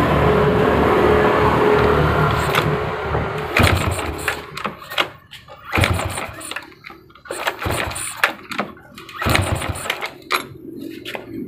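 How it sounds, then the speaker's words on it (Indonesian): A Honda Supra Grand motorcycle with a suspected dead CDI and lost ignition is kick-started, giving repeated uneven mechanical churning strokes close by, with brief pauses between kicks and no steady running. "akan saya engkol"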